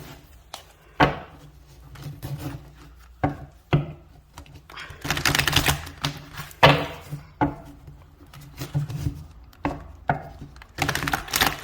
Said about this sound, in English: I'm going to pull some tarot cards to confirm.